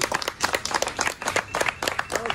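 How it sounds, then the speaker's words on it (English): Audience applause greets the performer Bongo during a Jamaican stage show, a broken run of clapping with uneven bursts, fairly close and loud, with some voices mixed in beneath the hands. "everybody can give Bongo a big round of applause for me"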